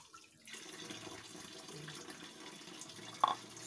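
Water poured into a pot of paksiw fish stew cooked with vinegar: a soft, steady trickle and splash that runs for a few seconds, ending in a brief brighter splash, fairly quiet with no speech.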